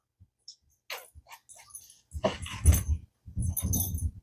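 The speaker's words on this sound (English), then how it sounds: "Don't mind the dog." A nearby dog snuffles and moves about, with jingling tags and soft scuffling sounds in short irregular bursts.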